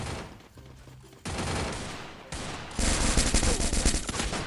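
Automatic gunfire in the battle royale game Free Fire during a 4v4 ranked match, sustained rapid bursts in several distinct volleys that grow louder and denser toward the end, close and dominant with no talking.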